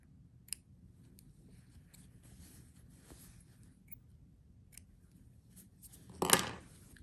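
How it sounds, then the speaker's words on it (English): Scissors cutting sewing threads while making a mini drawstring bag: a few faint, sparse snips and clicks under quiet room tone, then one louder, brief crisp cut near the end. "I hope you are cutting your threads as you go along"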